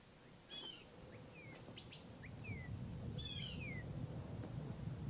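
Several birds sing in the morning, short whistled phrases and chirps spaced over a low, steady outdoor rumble, fairly faint and with no voices.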